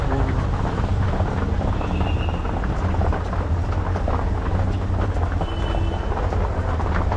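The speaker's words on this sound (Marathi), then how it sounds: "बघा आता पाऊस कधी जातोय" Heavy rain pours steadily outdoors near a hall, a dense unbroken roar with deep rumbling underneath that suggests thunder, with no talk.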